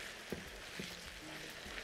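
A spoon turns seasoned chard around in a dish, a soft low sizzling hiss with a few quiet scraping strokes, faint and close.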